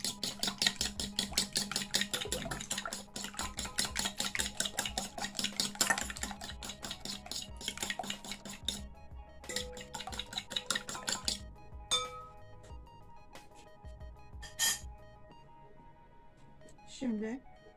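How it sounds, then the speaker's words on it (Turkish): A fork whisks an egg in a bowl with quick, clinking taps against the dish, rapid and close for several seconds, then fading into scattered clinks and kitchen handling sounds while a person speaks. "Şöyle çatalla onu iyice çırpıyorum."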